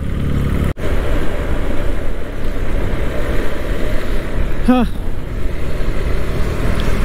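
Steady road rumble inside a car moving through heavy daytime city traffic, a continuous low drone with a brief dropout near the start and a short harsh squeal midway, under occasional talk.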